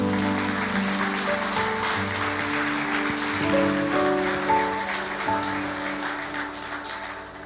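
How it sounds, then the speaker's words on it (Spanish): A church congregation applauds steadily, a dense patter of many hands clapping under sustained worship music. "Dale un fuerte aplauso a Dios."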